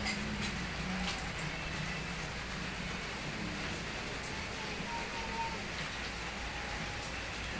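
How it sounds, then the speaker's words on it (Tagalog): Steady rain falling on an outdoor house construction site, a constant soft hiss at low level with no distinct drops or voices standing out. "umuulan dito ngayon"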